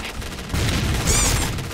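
Sniper rifle fire in a Point Blank shooter game, heard as a loud, close burst of shots with a booming low end and a ringing tail.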